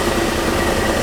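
A Dodge D150 pickup engine idles with an exhaust leak, a steady low rumble with broadband hiss, close and continuous throughout.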